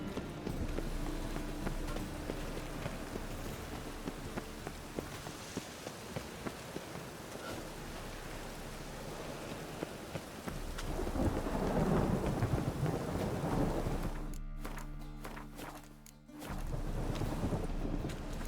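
Steady rain falls with rumbling thunder in a stormy scene from the video game The Witcher 3, heavy downpour swelling midway, with hoofbeat-like clopping and a brief cut-out near the end.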